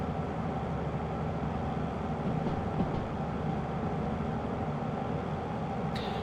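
Locomotive in the train game Derail Valley running at speed, a loud, continuous rumbling drone with steady rail noise and a brief high squeal near the end.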